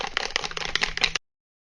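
A Skinceuticals Physical Fusion UV Defense SPF 50 sunscreen bottle is shaken briskly for about a second, giving a close, rattling swish of quick pulses that stops abruptly.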